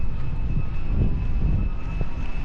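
Four wind turbines at night in stormy Scottish countryside give off a steady, loud, low roaring drone with a faint constant whine above it, unbroken throughout.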